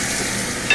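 Steady sizzling of meat frying in a pan, a close, dense crackle with a brief louder stir at the end.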